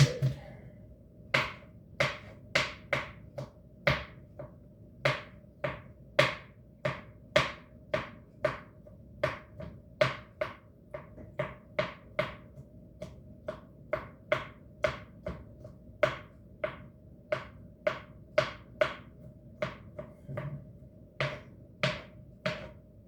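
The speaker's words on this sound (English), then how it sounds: "when you're dicing them up" A knife dices ingredients for ceviche on a board, making dozens of crisp, evenly paced chops in a steady rhythm, close and clear with no talking.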